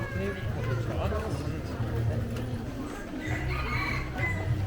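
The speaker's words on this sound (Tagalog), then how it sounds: "May manok." Chickens clucking with a rooster crowing, close by in a busy outdoor spot in Da Nang, with crowd babble and people talking over the birds throughout.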